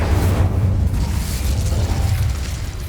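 Incendio fire spell cast in the video game Hogwarts Legacy, a loud whooshing burst of flame with a heavy low rumble that roars steadily for a few seconds.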